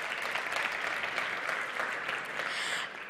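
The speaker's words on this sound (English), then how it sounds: "Please a big applause for Nelly" An audience at a live-streamed event applauds the arrival of Nelly Markova, Principal of Molten Ventures. The clapping is dense and sustained, then thins slightly toward the end.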